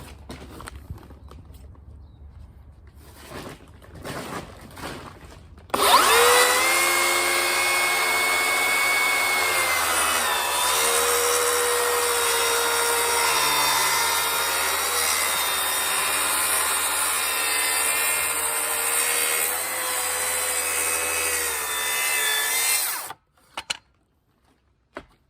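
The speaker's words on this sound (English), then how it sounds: "So we're gonna make a test. Rip this timber. It's 45 thickness of timber" A Makita XGT 40V cordless saw rips through 45mm timber, giving a loud, steady, close-up cutting whine that starts abruptly, holds for about seventeen seconds and then cuts off, with no talking.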